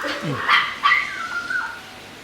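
Dogs squabble with a few sharp, high-pitched yelps and whining cries in quick succession, close and fairly loud, with a brief quieter tail of whimpering.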